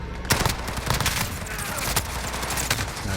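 Gunfire in the video game Call of Duty, a dense, continuous run of rapid shots with sharper individual cracks, loud and close throughout.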